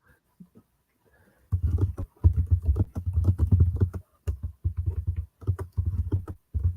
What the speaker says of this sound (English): Are you typing in the chat or somebody else's chat?